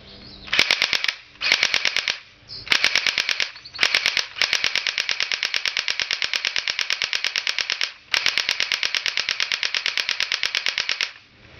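A Crosman R71 airsoft gun fires on full auto, loud sharp rapid-fire bursts of snapping shots, several short bursts and then one long continuous string, with brief pauses between.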